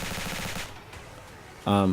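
Rapid gunfire from a Unity 3D first-person shooter video game rattles in a fast burst, then drops away, and a louder tonal burst follows at the end.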